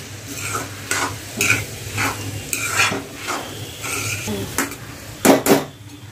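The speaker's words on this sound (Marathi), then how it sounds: "तसे चांगली भाजी हलवून घेऊया।" A spoon stirs fenugreek leaf bhaji mixed with crushed peanut powder in a pan, scraping and clinking against the metal in irregular bursts, with a soft sizzle of frying beneath and no talk.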